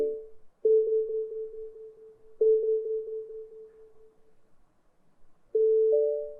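A Lenovo K3 Plus portable Bluetooth speaker plays its power-on sound effect: a few steady electronic tones at a clear level, each starting abruptly and fading out, with short silences in between and no talking.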